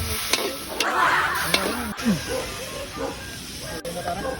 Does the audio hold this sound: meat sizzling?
yes